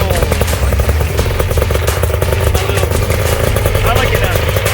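GEN5 Fly-Pod engine starting and then running loud and close, a continuous rattling, buzzing drone with rapid pulsing and mechanical clatter throughout.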